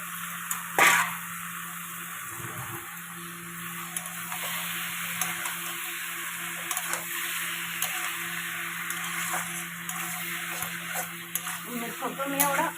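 Pieces of goat fat fry in a pan with steady sizzling and hiss throughout, a brief clatter near the start and occasional stirring scrapes.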